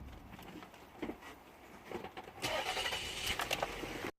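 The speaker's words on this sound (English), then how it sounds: "got the fault right now, crank no start." A Toyota Sienna with an intermittent warm no-start fault cranks over without catching, a steady mechanical churning that runs for several seconds at close range before cutting off.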